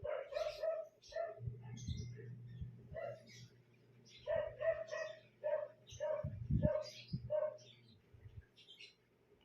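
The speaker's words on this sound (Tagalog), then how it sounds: "nag-iingay yung mga aso ko" Several dogs bark in repeated short yaps at a moderate distance, sometimes overlapping, with some lower rumbling noise in the background.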